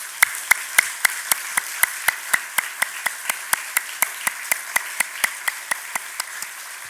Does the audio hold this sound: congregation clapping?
yes